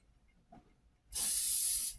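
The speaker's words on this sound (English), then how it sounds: "give it a quick spray." After a faint brief tap, a loud sustained hiss of aerosol spray bursts out and holds steady for nearly a second, close by, while building a 1/32 scale model sign.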